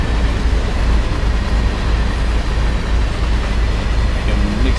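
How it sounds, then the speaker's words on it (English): CSX freight train passing in the Train Sim World 5 Boston commuter route, a loud, steady, rumbling wash of wheels and rail noise close by, continuous throughout with no voices. "Ah, I knew it was freight. CSX."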